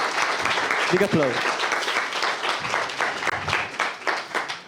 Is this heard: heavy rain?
no